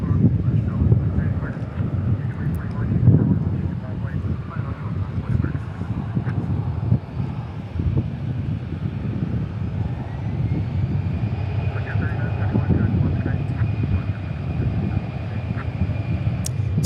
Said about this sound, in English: Japan Airlines crossing the bridge